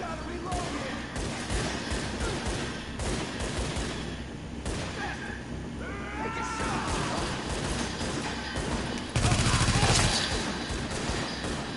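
Repeated gunfire and bursts of automatic fire in a video game firefight, sharp cracks scattered across the stretch with a heavier, louder volley near the end, under a voice.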